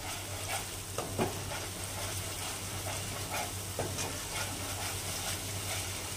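Chicken with cashews fries in a pan under a constant hiss and sizzle, while a utensil scrapes through it in repeated stirring strokes every second or so.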